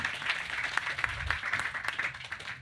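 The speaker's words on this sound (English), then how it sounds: "A round of applause for Alex." An audience applauds a speaker at a farmer cluster event, with dense, steady clapping at moderate volume that carries on without any speech over it.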